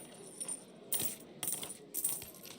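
Penny coins dropped as an ante in the video game Pentiment, three distinct bright metallic clinks spaced about half a second apart over a quiet background.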